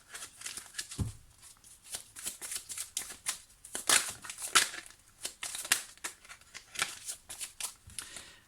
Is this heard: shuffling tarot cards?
yes